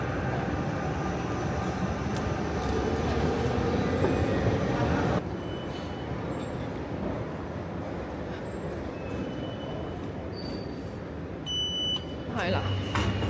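A metro train moves through a station in Milan, Italy, with a loud continuous rumble and wheel squeal that drops in level partway through. Electronic beeping tones follow near the end while people talk nearby.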